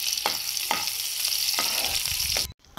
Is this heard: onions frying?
yes